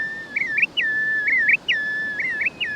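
A curlew's breeding-ground song: a clear whistled phrase that rises and wobbles, repeated three times in a steady rhythm, fairly close and alone against quiet background.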